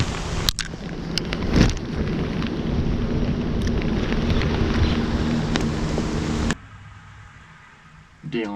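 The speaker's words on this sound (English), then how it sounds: "dealing with some heavy rain today" Heavy rain hammers down outdoors on a fishing trip as a loud, steady wash with a few sharp knocks. It stops abruptly partway through, leaving quieter background noise.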